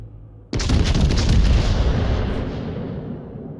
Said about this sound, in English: That was rather underwhelming, that salvo